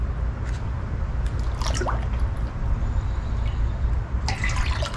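Creek water gurgling and trickling into a container dipped into the stream, a continuous close burbling with a low rushing undertone and a few brighter splashes.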